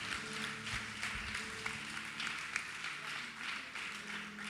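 A church congregation at a family worship service applauds, a fairly faint, steady patter of clapping across the room with a sustained tone and murmuring beneath it.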